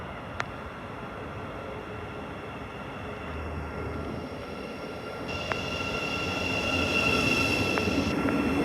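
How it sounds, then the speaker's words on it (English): A Thameslink Class 700 electric train running from Cambridge toward London King's Cross draws into Stevenage station, a steady rumbling roar that slowly builds, with faint high whines and a few sharp clicks. "we have another Thameslink 700 about to come from Cambridge to London King's Cross"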